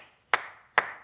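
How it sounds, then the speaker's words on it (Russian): Two sharp, crisp hand claps about half a second apart, close and clear against near silence. "Маруся хлопает в ладоши, появляется 2 дюжих молодца."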